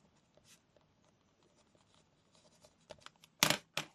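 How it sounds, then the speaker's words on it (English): A pen scratches across paper in soft, faint strokes, then a few louder, sharper scrapes near the end, with no talking. "I'm just going to write down there, Lisa, that this is for the newbie set."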